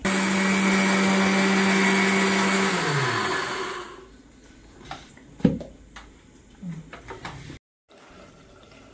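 A mixer grinder runs loud and steady, grinding roasted rice into coarse meal, then winds down and stops, leaving a few clicks and knocks from handling the jar before the sound cuts off.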